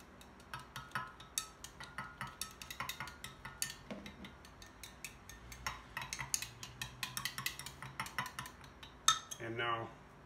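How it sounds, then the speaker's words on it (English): A utensil scrapes and clinks against a container while powder is stirred into heated bait plastic, giving a quiet, irregular run of ticking and scraping taps throughout. "I want to get this powder stirred up just a little bit"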